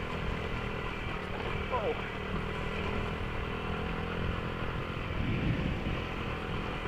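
A small 50cc dirt bike with a semi-automatic three-speed transmission hums steadily at close range throughout, with someone's brief voice heard over the engine.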